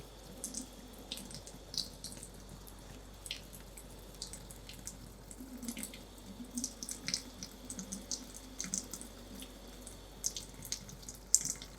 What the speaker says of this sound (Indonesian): Setelah itu kita bersihkan dengan menggunakan air mengalir.